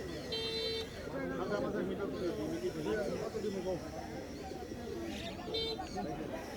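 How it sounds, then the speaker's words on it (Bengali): Pigeons coo softly at the Fatullah pigeon market in Bangladesh amid a busy crowd of voices talking, with faint chirps and a distant horn in the background. "অনেক সুন্দর সুন্দর কবুতর নিয়ে আসছে আজকে মোমেন ভাই ওনার দোকানে"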